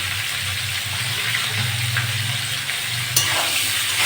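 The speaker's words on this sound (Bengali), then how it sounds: "এগুলো ভালো করে ভাজা করে নেব।" Pointed gourd pieces fry in oil with turmeric and salt, making a continuous close sizzle under a low hum, with a faint clink or scrape and a sharper burst of spatter near the end.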